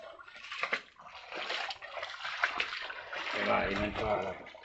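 Tidal flood water at El Trocadero during a very high tide pours and splashes steadily, close and fairly loud, with people talking excitedly over the rushing flow.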